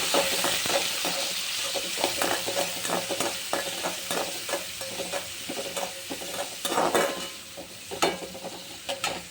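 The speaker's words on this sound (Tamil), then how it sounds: "இதை எல்லாத்தையும் ஒன்றா சேர்த்துக்கலாம் ஒன்றா சேர்த்து நல்லா வதக்கிக்கலாம்" Green chili, shallots and curry leaves sauté in a pan for cabbage poriyal, with steady sizzling and repeated stirring scrapes running throughout, close and fairly loud.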